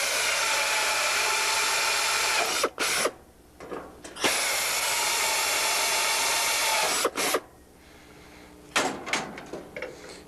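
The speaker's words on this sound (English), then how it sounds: "Then using your longer drill bit, I'm using a 5-inch one here, you just back drill through your plate nut" A power drill with a long 5-inch bit back drilling through a plate nut during Van's RV-6 fuselage construction, two loud sustained high whines of a few seconds each, broken by brief pauses and clicks.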